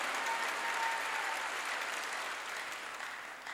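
A church congregation at a sermon claps steadily and warmly, a dense wash of applause that slowly fades a little toward the end.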